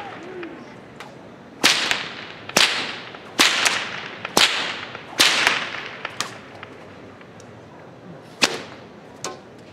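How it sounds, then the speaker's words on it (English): A bullwhip cracks in a live demonstration, about a dozen sharp, loud snaps at irregular intervals, some hard and some lighter, ringing over a quiet room. "So that's a bullwhip."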